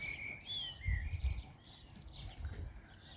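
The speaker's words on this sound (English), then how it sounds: "Listening to the small birds singing away." Small birds sing outdoors with quick, thin chirps and short whistled phrases over soft low rumbling background noise, fairly faint and distant.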